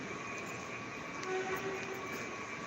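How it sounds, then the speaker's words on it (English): A train passes by with a steady, moderately distant rumble of rolling wheels and rail noise, with faint tonal squeals or horn-like tones mixed in and no voices. "here comes another train"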